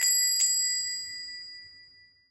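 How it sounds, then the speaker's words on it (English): A single bright bell ding rings out and slowly fades away, clear and close, with nothing else around it. "The clanging noise of the bells echo through the store."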